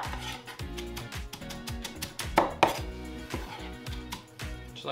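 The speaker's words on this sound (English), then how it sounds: "Get it all chopped up, all diced." A knife chops shrimp ceviche ingredients on a cutting board in quick, even strikes, close and crisp. The rapid rhythm goes on with a couple of louder knocks and no speech.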